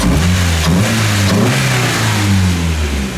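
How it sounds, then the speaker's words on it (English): Nissan S13 engine running after a nitrous install, a loud steady mid-pitched rumble close by, with a slight rev rise and fall near the start before settling to an even drone. "the motor's still quiet, still runs really good."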